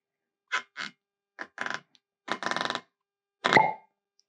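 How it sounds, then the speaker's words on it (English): Cork pulled from a bottle of Michter's Toasted Barrel rye whiskey, heard as a handful of short, close squeaks and pops spread over a few seconds, ending in one louder, sharper pop, with no talking. "It's pretty good cork pop there."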